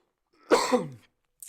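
A single short, harsh cough burst from a nearby person, followed by silence and a faint brief sound at the end.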